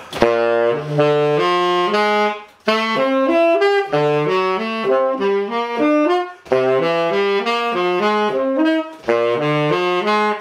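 A jazz blues chord progression played in steady time, chords changing rhythmically across several bars, loud and close with no voices.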